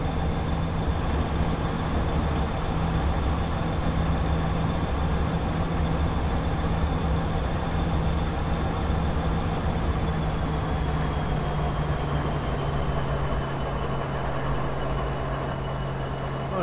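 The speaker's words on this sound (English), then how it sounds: "Well, here we are pulling to Whitefish Station, coming to stop." In a train simulator game, a heavy BNSF SD70ACe freight train rumbles steadily with a low engine drone and a sustained high squeal, slowly winding down as it stops at Whitefish Station.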